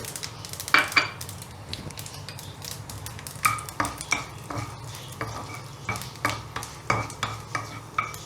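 Mustard seeds, red chillies and urad dal hitting hot oil, a soft sizzle beneath a series of sharp pops and spatters, with repeated close metallic scrapes of a spoon stirring in the pan.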